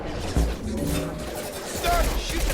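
Gunfire in Mass Effect 2 during a fight at a colony: a couple of sharp loud shots and impacts among muffled combat noise, with a voice briefly heard.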